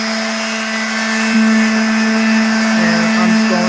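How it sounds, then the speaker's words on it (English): A regular sander works on Porsche 944 body work, giving a loud, steady, high-pitched whine with a firm hum beneath, close and continuous throughout. "all I have here is just a regular sander"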